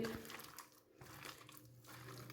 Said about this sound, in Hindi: उसके बाद हम अच्छे तरीके से इसको पानी के साथ धो लेंगे।